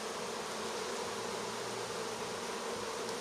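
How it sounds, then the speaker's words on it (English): A dense, steady buzz of many honeybees fills the air close by, a continuous humming drone with no pauses. "The trail of bees that are all walking back to the hive"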